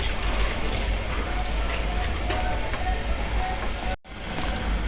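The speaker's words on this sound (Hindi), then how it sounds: "इसको अच्छे तरीके से हम बीट के साथ, हैंड बीटर के साथ हल करेंगे।" A handheld electric beater whirs steadily as it mixes cake batter for a coconut cake, a loud continuous buzz with a brief cut-out near the end.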